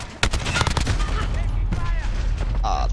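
Rapid gunfire bursts from the Modern Warfare video game crackle continuously, loud and close, with overlapping shots and a brief tonal effect near the end.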